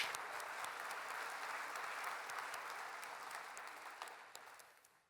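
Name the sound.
audience applause for Eric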